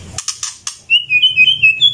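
Hoarse white-rumped shama calling after its molt: a few rough, breathy squawks, then a thin, strained whistling call, close and fairly loud in a quiet setting.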